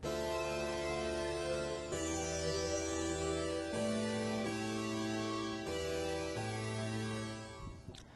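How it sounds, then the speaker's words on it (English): A warm, sustained Prophet 6 synth pad holds full chords that shift every couple of seconds, smooth and continuous, fading out at the end. "I went to this other pad sound from the Prophet 6"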